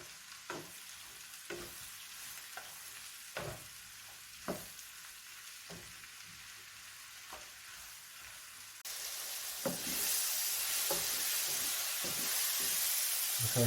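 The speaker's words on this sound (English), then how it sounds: "What we're going to do now is soften up this leek, get these mushrooms browned off." Sliced leek and mushrooms fry in hot oil in a pan while a utensil stirs them with sharp scraping clicks, and a steady sizzle turns louder and denser partway through.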